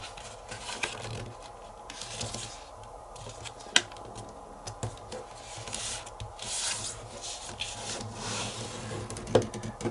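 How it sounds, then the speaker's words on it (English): Sheets of paper being creased and folded into a paper plane, soft close rubbing and scraping strokes with a few sharp crinkles and taps, quiet and without talk. "take the edge and fold it to the center"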